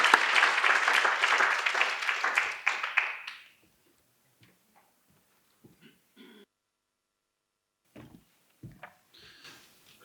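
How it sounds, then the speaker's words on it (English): Audience applause for book award winners at an academy humanities book awards ceremony, a loud burst of many hands clapping that fades out after a few seconds, followed by near silence with faint scattered knocks and shuffles. "please join me in a round of applause for these worthy winners of the ASSAf Honourable Mention category"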